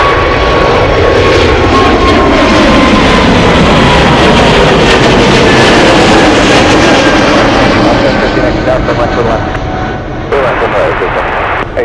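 A Delta Airbus A220 departs with a loud, sustained jet roar and faint whining engine tones that slowly fall in pitch, easing slightly near the end.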